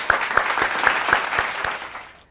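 An audience bursts into applause with rhythmic, steady clapping, loud and close at first, then fading away toward the end.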